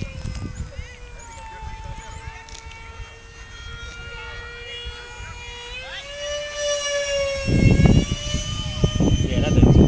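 A remote control model jet takes off, its turbine whine holding steady and then rising in pitch, with a rougher roar swelling toward the end.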